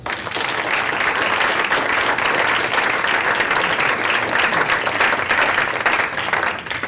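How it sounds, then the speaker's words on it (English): A lecture audience applauds panelists at the close of an annual lecture series event, with steady, dense clapping that sustains evenly at full volume throughout and no talking. "I'd like to give them a round of applause"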